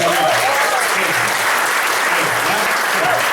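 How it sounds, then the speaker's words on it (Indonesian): Seminar audience in Indonesia clapping loudly and continuously, a full, dense wash of applause with a faint voice underneath throughout. "Kalau gitu tepuk tangan yang mulia Bapak Ibu."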